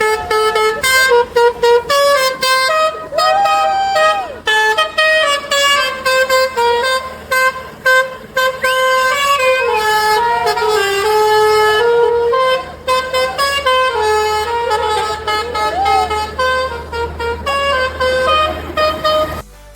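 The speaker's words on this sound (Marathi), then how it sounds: "आप थोड़ा म्यूजिकल हॉर्न हमें एक बार पूरा सुना के जाइए" A loud truck musical horn plays a long melodic tune, its bright notes changing pitch in phrases with brief gaps, heard close and clear.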